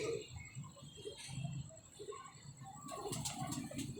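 Pet pigeons cooing nearby in a loft, soft repeated low burbling calls in short bursts over a faint background hum.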